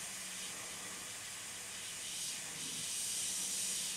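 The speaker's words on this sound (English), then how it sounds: "using the airbrush to get these effects." Airbrush spraying paint onto a Fine Molds 1/72 Y-Wing model, a soft continuous airy hiss that swells slightly toward the end, close and steady with no talk.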